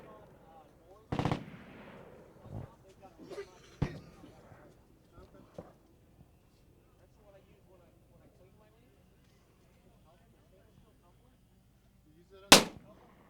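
A rifle shot fired at a target about 200 yards downrange cracks out once, loud and sharp, near the end, after several earlier bangs and clatter from loading and handling the rifle.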